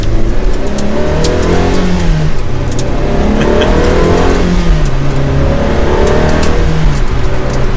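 A Ferrari 360 Challenge Stradale heard from inside while driving on back roads, its engine revving hard in a loud, continuous, rising and falling roar that fills the whole stretch.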